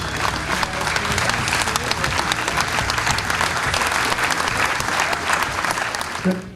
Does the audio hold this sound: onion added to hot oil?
no